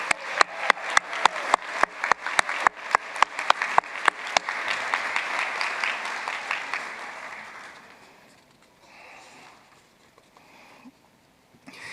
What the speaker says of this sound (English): Now please join me in one more round of applause for all of our doctoral graduates.